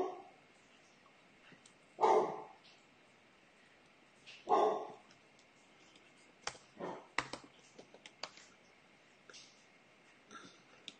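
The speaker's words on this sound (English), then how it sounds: "the dogs are barking today" Dogs give two loud, distinct barks a few seconds apart indoors, followed by softer snorts and scattered quieter yips.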